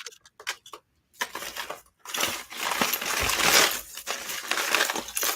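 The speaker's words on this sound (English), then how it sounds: "I'm gonna eat pretzel sticks" Someone munches crunchy pretzel sticks close to the microphone: a few sharp isolated bites and clicks, then a dense, sustained run of loud crackling crunches with no talking.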